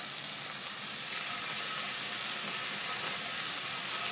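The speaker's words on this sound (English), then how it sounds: "So I'll go ahead and start getting these seared." Scallops searing in a hot pan, a steady, loud, close hiss of sizzling oil that swells slightly partway through and carries on without a break, with no talking.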